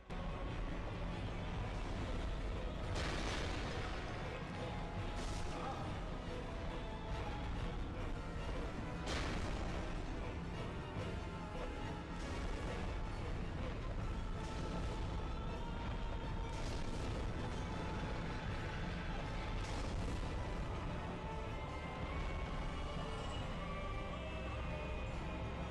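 Black fire bombs burst repeatedly in the game Dark Souls, a sequence of heavy booms and crackling blasts over a constant dense rumble, with a voice faintly present beneath.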